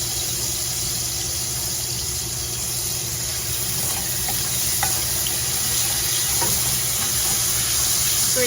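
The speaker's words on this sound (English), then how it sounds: "We just want to cook this garlic just for a minute." Minced garlic sizzles in a hot pan at the start of a stir fry, a steady, dense frying hiss with faint scrapes and ticks, no voices.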